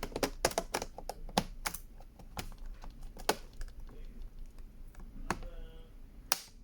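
Sharp plastic clicks and snaps come in irregular bursts over a quiet background as the keyboard of a Dell Studio 1558 laptop is pried off, keys and clips popping loose one after another.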